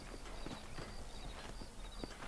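Horse hooves clip-clop at a steady walking rhythm in Red Dead Redemption, the clops fairly close and continuous across the moment over a low game ambience.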